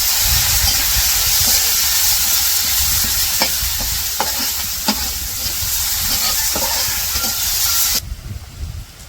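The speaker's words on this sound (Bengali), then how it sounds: "ওই কড়াইয়ের মধ্যে আবার পেঁয়াজ দিয়ে দিল" Onions frying in oil in a wok after fish, a loud continuous hissing sizzle punctuated by several sharp spatula scrapes against the pan, close up, the sizzle dropping off abruptly near the end.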